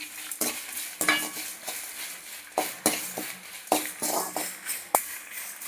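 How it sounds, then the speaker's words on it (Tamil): Dried red chillies roast in a pan for drumstick flower powder, with a spoon stirring and scraping in repeated sharp metallic knocks over a light crackle, close and with no talking. "காஞ்ச மிளகா தான் ஒரு நிமிஷம் வருத்தம்னா போதும்"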